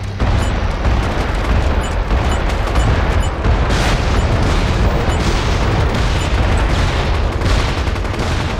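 Artillery strike in the online shooter game MAG, with a dense, continuous roar of explosions and booming blasts that stays loud throughout, no clear gaps between hits.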